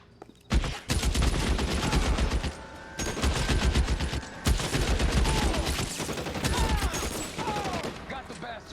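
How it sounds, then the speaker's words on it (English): Rapid bursts of Tommy gun fire in the 1940s Los Angeles crime game L.A. Noire, loud and close, with several dense rattling volleys separated by short breaks and voices calling out between them. "Good kill. Nice, Tommy gun."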